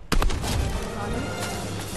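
Gunfire in the video game Fortnite, a sharp opening burst of shots followed by a booming, rumbling tail, close and loud, with a player's voice mixed in.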